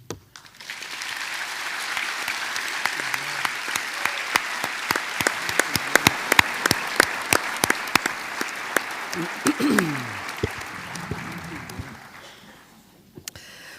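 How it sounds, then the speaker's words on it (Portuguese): An audience at a literary festival panel applauds at length, a broad steady clapping with sharp individual claps standing out, a brief voice partway through, then fading away near the end. "eu preciso dos vossos aplausos"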